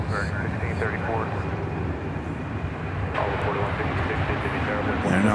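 A British Airways airliner taxis at DFW Airport, its engines giving a steady, broad jet roar at a distance, with a person talking over it throughout.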